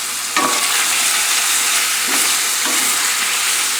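Ground beef liver fries in a pan with a steady, loud sizzle, broken by a few stirring scrapes that come in short bursts.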